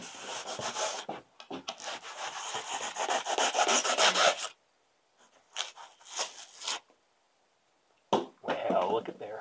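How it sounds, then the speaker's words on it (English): A hacksaw blade cutting along the side of a wall in a bed-lift setup, with rapid rough back-and-forth rasping strokes for several seconds, then a pause and a few more short bursts of scraping, close and fairly loud. "just get a hacksaw blade and just right along the side of the wall, and I'll just saw right through it"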